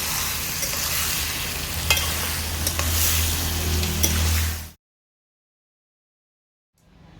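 Bottle gourd sizzling loudly in a pan of fried spices and ginger while being stirred, with scraping strokes over a steady hiss that cuts off abruptly into silence.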